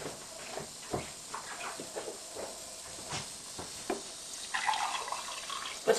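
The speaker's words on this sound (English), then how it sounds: "So start off with a tiny little bit of water." Water poured from a glass into a pan of rhubarb for a pie gives a soft, steady splashing and trickling hiss, close and fairly quiet, with a few small knocks.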